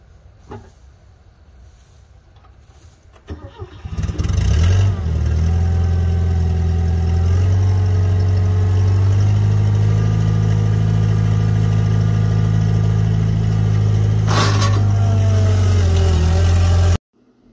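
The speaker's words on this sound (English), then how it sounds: "let's get this thing crunked up and hopefully it'll crank here" Bobcat skid-steer loader on a farm, its engine cranking briefly, catching and settling into a loud, steady, low-pitched idle that runs for over ten seconds before cutting off abruptly.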